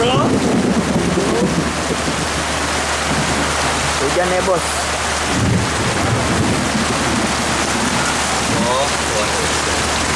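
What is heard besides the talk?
rain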